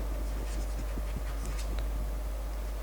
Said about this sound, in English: Okay, let's write.